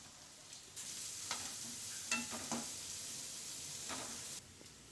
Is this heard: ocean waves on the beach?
no